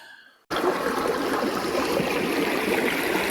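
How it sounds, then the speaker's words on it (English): Water from a small waterfall pours steadily and close by, with a continuous bright rushing and splashing that starts abruptly and stays loud and even throughout. "I've made my way to this lovely little waterfall here."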